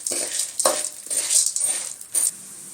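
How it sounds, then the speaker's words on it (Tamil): Urad dal frying in hot oil in a pan, with a bright hiss of sizzling broken by a few scraping stirs and utensil knocks against the metal, close and moderately loud. "எண்ணெய் நல்லா காஞ்சிடுச்சு, உளுந்து சேர்த்து விட்டுடலாம்"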